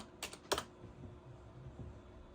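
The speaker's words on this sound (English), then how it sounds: "we're going to go to home by typing inode.com" A web address is typed on a computer keyboard of a retro Windows 95 PC, two loud key clacks close up, then a few softer taps against quiet room tone.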